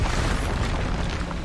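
Expulso spell explosion in Hogwarts Legacy, a dense, loud, roaring blast that fills the whole short moment without a break.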